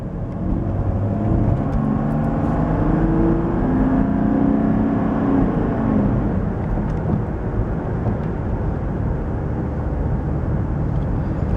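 A deep Mercedes W124 300TD multivalve diesel engine roars steadily close by, its rumble rising and easing as it pulls, with a whooshing intake note layered on top.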